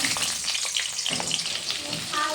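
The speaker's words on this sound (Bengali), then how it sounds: "ভালো করে আমি এগুলো ভেজে নেব। প্রথমে কাঁচা লঙ্কা দিয়ে দিলাম।" Green chillies frying in hot oil in a pan, a dense, continuous crackling sizzle heard up close throughout, with a few soft stirring touches.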